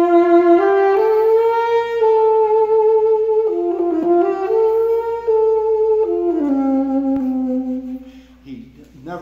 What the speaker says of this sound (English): this, of course, is the alto saxophone